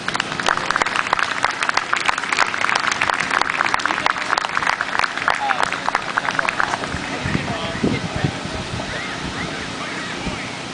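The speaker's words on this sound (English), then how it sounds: "So we want to make sure we give him a nice, warm round of applause." Loud, dense crowd applause at an outdoor Chicago Tea Party 912 rally welcoming a speaker, roaring for several seconds before fading into voices and lighter clapping.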